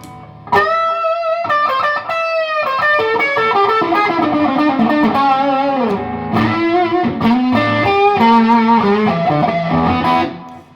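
Electric guitar played through a fuzz pedal, a thick distorted tone with sustained chords and a descending run of notes, loud and close, ringing out alone for about ten seconds before cutting off.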